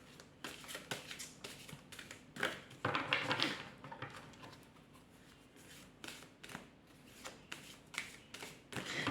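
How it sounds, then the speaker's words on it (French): Tarot cards being shuffled and drawn by hand, a run of crisp papery riffles and flicks in irregular bursts, fairly quiet and close, with no talking. "Alors, je vais retirer 2 autres cartes."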